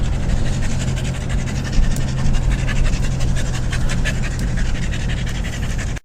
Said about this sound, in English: And I have a panting beagle.